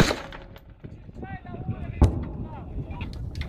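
A gun firing at a military checkpoint near Debaltseve, with one sharp, heavy report about midway, set against wind-buffeted outdoor rumble while people talk.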